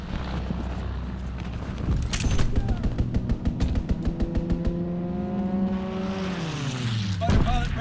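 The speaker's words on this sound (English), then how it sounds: "Strafing run inbound." Aircraft strafing run in Call of Duty WWII: a rapid burst of gunfire cracks alongside a passing plane whose engine tone sweeps downward as it flies over, with game background noise throughout.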